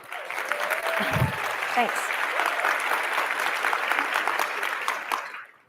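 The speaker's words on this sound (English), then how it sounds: "you can applaud that, that's right" Sustained applause from a live audience fills the room, a dense steady clatter of clapping that runs for several seconds before cutting off, with a brief spoken word of thanks over it.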